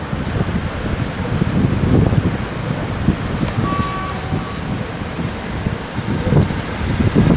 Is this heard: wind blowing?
yes